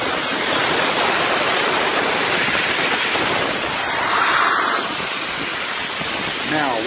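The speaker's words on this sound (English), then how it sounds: "Start draining your first hose. Then your second hose." Water drains from hoses in a loud, steady rushing hiss, a continuous gushing spray that holds constant throughout.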